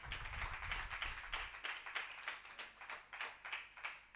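A church congregation clapping together at a house opening, rhythmic claps in a steady beat, moderately faint and unaccompanied by talk.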